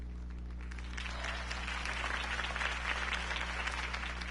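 A crowd applauding steadily for several seconds, a dense wash of many hands clapping at moderate distance, with a low steady hum underneath.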